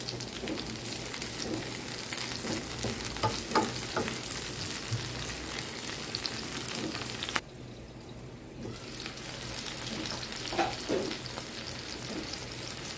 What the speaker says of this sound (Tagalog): Igisa natin ang onion, garlic at kamatis.